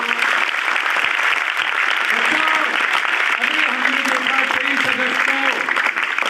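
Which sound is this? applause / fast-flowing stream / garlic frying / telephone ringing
applause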